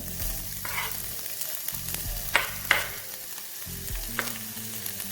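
Onions frying in hot oil in a home kitchen pot while making lasagne, a continuous soft sizzle with a low bubbling undertone, punctuated by a few sharp scraping and stirring clatters.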